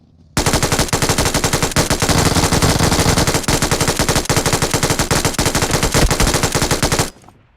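Sustained automatic gunfire in the battle game BGMI, rapid bursts of shots continuing almost without pause for about seven seconds, loud and close with no talk.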